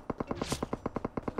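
Rapid automatic gunfire in a battle royale video game, about a dozen sharp, evenly spaced shots in quick succession, loud and close with no talking.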